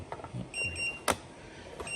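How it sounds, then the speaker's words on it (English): A 50C battery charger-tester beeps on finishing a 3S 2200 battery, giving short, thin electronic tones, one held beep and another starting near the end, over faint clicks and handling noise. "And the 50C just beeped, so it's done."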